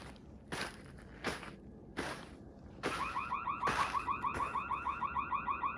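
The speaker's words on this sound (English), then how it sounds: "Here is a demo of what that alarm sounds like." Several loud bursts of noise give way to a rapid, pulsing electronic siren from a Birdfy birdfeeder security camera, warbling steadily at a fast rhythm, heard from about 15 feet away.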